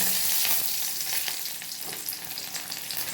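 Chopped onion sizzles and crackles loudly in hot oil, a dense steady frying hiss with occasional stirring scrapes.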